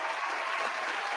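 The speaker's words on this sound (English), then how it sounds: "You get a round of applause." A studio audience at a late-night show claps in steady, dense applause throughout, fairly close and even in level, with no voices standing out.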